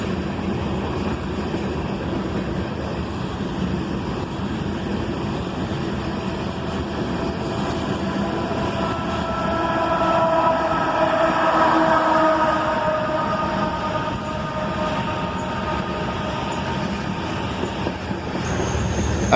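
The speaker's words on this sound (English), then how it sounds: "I love hearing the sound of the distributed power locomotives working hard as they go by" A CSX freight train rolls past steadily, wheels clattering on the rails, with distributed power locomotives working hard, engine roar swelling in the middle before easing off.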